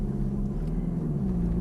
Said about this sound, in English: Now press that start engine button again.